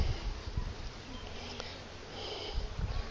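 Honeybees being moved by hand into a swarm trap box, a faint close buzzing hum with soft scraping and brushing handling noises, occasional low thumps.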